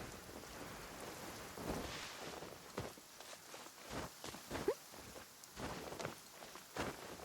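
Video game rain falls steadily while muffled rumbles of thunder roll in, broken by soft in-game footsteps and brief thuds, all at a low, distant level.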